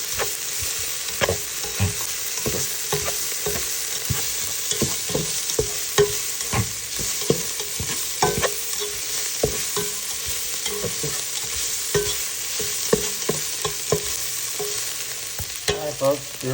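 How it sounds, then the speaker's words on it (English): Onions and garlic fry in a pan as a spoon stirs and tosses them, a steady bright sizzle broken by frequent scraping and clacking strokes, close and continuous for the whole stretch with no voices. "let's now add in the garlic. We're going to put it in there, and we're going to toss it around for about 1 minute."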